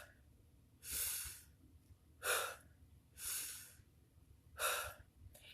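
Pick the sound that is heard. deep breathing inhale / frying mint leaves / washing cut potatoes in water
deep breathing inhale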